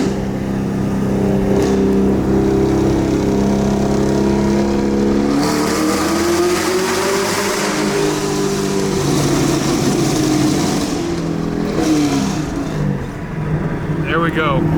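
A Camaro with a manual gearbox driving on wet roads, the engine note loud and steady throughout with rising and falling revs during shifts, tyre and road noise mixed in, and a voice talking over it.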